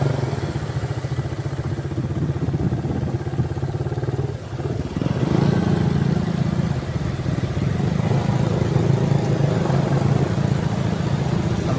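A motorcycle engine sits in floodwater during Typhoon Carina's flooding in Pasig, giving a steady low mid-range rumble with clatter and splashing that drops briefly before picking back up, continuous and fairly close.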